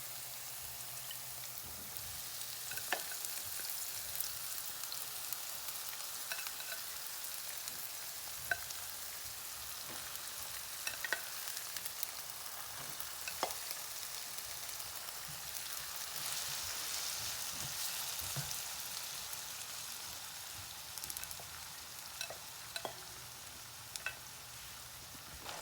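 Marinated tempeh fries in oil for a vegan soybean paste noodle dish, a steady, fairly soft sizzling hiss with scattered crackles and occasional clinks of stirring, continuous throughout with no talking.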